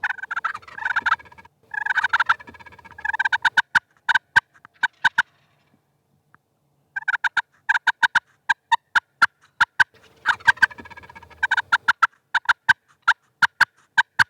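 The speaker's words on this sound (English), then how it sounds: "The old gobblers just can't stand to see the jakes horning in on what might be a hot hen." Osceola wild turkey gobblers gobble loudly and repeatedly in response to calling, rattling bursts alternating with sharp clucks and short silent gaps, with no talk over them.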